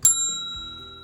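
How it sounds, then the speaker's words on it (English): A single bright bell ding used as a notification sound effect, a sharp strike ringing with clear metallic overtones that fade slowly over about a second, standing alone. "don't forget to hit that little notification bell"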